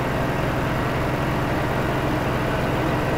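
Truck engine in Farming Simulator 15 idling with a steady low rumble while reversing to unload, a constant close drone with no talk over it.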